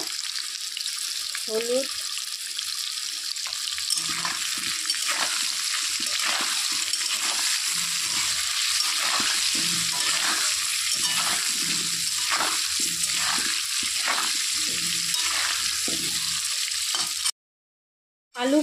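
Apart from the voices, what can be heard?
potatoes frying in hot oil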